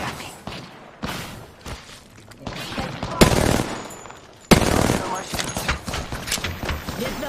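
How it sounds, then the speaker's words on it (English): Gunfire in the Apex Legends video game: repeated bursts of automatic weapon fire and single shots, loud and sharp, with several heavy blasts cutting in among the clattering volleys. "They're shooting at me."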